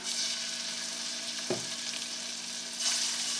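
A scallop trimming fries in hot oil in a pan, a dense steady hiss and crackle, close and loud, with a brief clunk partway through and no voices.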